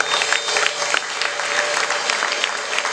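A crowd claps steadily in a dense, continuous burst of applause, close and fairly loud, with individual sharp claps standing out throughout.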